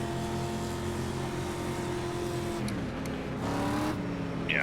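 A street stock race car in iRacing at Kern Raceway, its engine holding a loud, steady drone in third gear, then the pitch dips and climbs again as it pulls away, the sound close and continuous.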